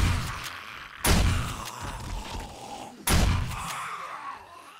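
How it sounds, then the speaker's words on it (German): Gunfire in the zombie survival video game 7 Days to Die: two loud sharp shots about two seconds apart, each trailing off in a long ringing decay, with no talk. "ich schieße da schon mit drauf"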